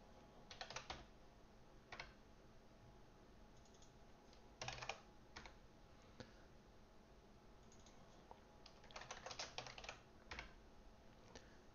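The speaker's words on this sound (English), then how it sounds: "Just going to type it out." Quiet, scattered typing on a computer keyboard while entering code, with sparse single key taps and a few quick bursts of clicks over a steady low background hiss, no voices.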